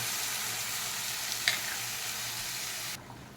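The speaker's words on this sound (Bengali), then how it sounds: "বেশ ভালো করে নাড়াচাড়া দিয়ে আমি এটাকে কষিয়ে নেব।" A spiced lentil mixture with salt, soaked spices and a little sugar sizzles steadily as it fries and is stirred in a pan. One brief utensil clink sounds partway through, and the hiss drops sharply near the end.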